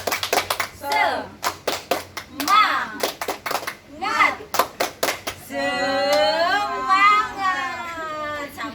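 An audience at a parents' school session claps in quick rhythmic bursts in the tepuk semangat pattern, sharp and loud, then shifts into voices calling out together in a cheering chant.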